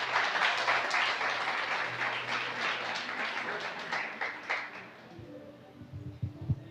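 A church congregation claps together in sustained applause during a service, dense and moderately loud, gradually fading out before a voice begins speaking.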